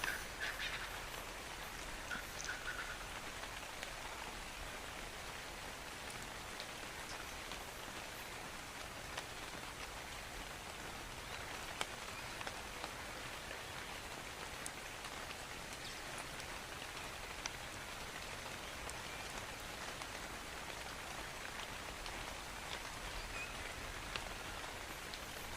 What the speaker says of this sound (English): this fog and rain is not helping visibility at all